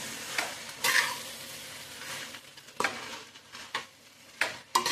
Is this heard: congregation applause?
no